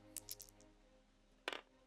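Dice rolled in a tabletop wargame: a quick cluster of small clattering clicks, a pause, then a second short rattle as they settle, close and fairly quiet.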